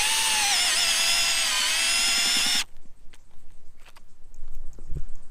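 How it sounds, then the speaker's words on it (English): A loud, steady power drill whines for a couple of seconds while driving a Supapeg ground peg into the ground, then cuts off abruptly, followed by quieter scuffing and light knocking sounds. "It literally drilled straight in, not a drama."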